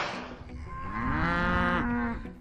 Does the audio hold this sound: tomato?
no